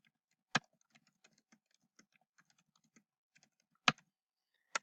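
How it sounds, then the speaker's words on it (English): Sparse keystrokes on a computer keyboard while typing a short test message, a few light scattered taps punctuated by three sharper, louder key presses, close and with no voices. "I'm just going to type in a quick test here"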